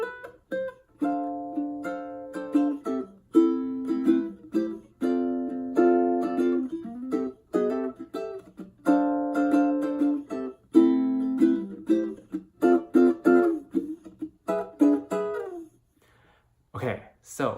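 A ukulele plays a lilting melody over strummed chords using chord inversions in short phrases, with brief gaps between them, ending with a few faint taps.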